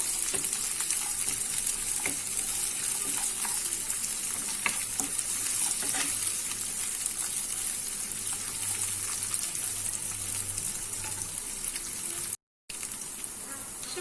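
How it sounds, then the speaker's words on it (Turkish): Continuous sizzling of raisins sautéing in a hot pan, with occasional clinks and stirring scrapes, steady and close throughout. "Bunları da güzelce kavuruyorum."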